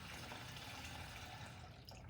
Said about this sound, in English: I'm going to fill this little container up with water